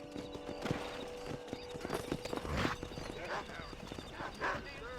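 Horse hooves clip-clopping with a whinny in Red Dead Redemption, intermittent and mid-distance, mixed with game ambience while someone talks over them.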